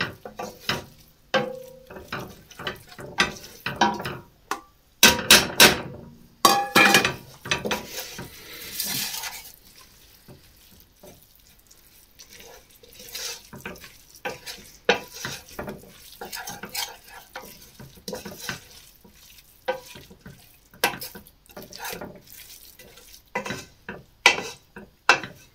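Flour being stirred into butter, onions and leeks in a pan, with repeated scraping and clinking of a utensil against the pan, soft sizzling, and uneven bursts of stirring that grow louder for a stretch before settling.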